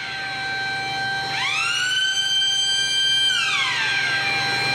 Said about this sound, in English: it will be the continuous rise and fall of a siren accompanied by flashing